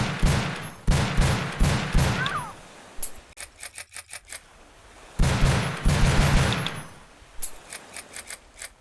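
Bursts of gunfire from a first-person shooter game built in the Godot engine, rapid volleys of loud shots in clusters with short pauses between them, alone without talk.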